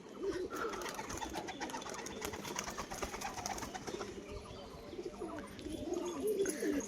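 Pet tumbler pigeons being offered for sale coo faintly in a continuous low murmur against background noise, with no clear talking.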